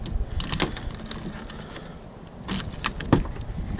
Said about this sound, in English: Let me search these keys.